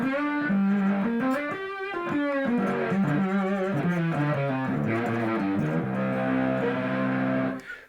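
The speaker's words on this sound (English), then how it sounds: "this is a fuzz pedal, and so this is going to have a lot of distortion and a little more volume" Electric guitar played through a fuzz pedal, loud and heavily distorted, with sustained buzzing chords and shifting notes ringing throughout before cutting off at the end.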